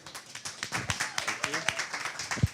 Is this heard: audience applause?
yes